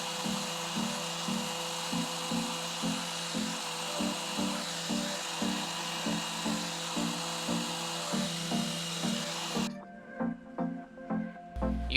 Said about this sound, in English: I cleaned it up real quick with my Mirka sander.